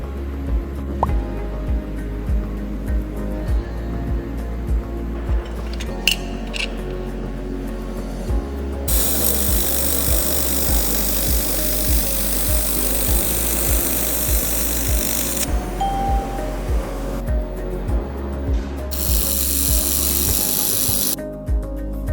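An SFX air-cooled laser welding machine works on thin aluminum, giving a steady low mechanical hum with long stretches of bright, hissing noise that switch on and off.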